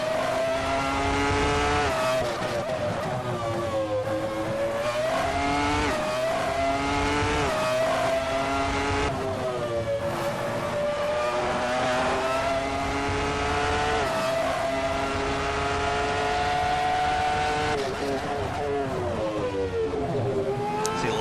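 A Ferrari F310 Formula One car screams through the Assetto Corsa racing game, its high-revving engine whining loud and continuous, rising through gears with sharp shift dips and repeated climbs in pitch.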